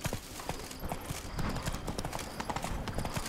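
A horse ridden in The Witcher 3 gives off a steady, fast clip-clop of hooves with a full, busy game soundscape behind it; a voice is faintly present.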